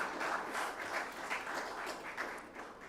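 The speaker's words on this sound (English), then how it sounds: "A big round of applause for Ministry of Defense and Defense Minister." Steady applause from a large audience at a defence summit, continuous clapping throughout with no pauses, moderately loud and filling the room.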